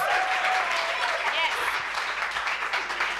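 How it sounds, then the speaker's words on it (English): Applause from an audience at a networking summit fills the whole stretch, steady and fairly loud, with a dense wash of claps and no voices standing out. "let's give Satrix an amazing round of applause"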